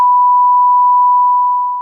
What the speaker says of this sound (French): Ouais, tu vas biper ça